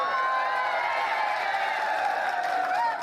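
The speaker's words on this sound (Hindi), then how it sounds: "तालियां बजा दो" Continuous applause and cheering from a large audience at a Hindi comic poetry gathering, steady and fairly loud throughout.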